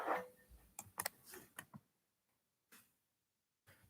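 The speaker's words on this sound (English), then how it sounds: "Sorry, I'm just quickly typing." Quick taps of typing on a phone or keyboard, a short burst of close clicks and knocks followed by a pause and a few more isolated taps, in a quiet room.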